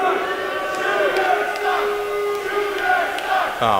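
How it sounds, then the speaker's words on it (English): A pro wrestling arena crowd chants and screams in a rising, rhythmic roar with shrill voices on top, while a commentator talks over it near the mic. "there's no accounting for intelligence in this particular crowd as they scream Shooter sucks"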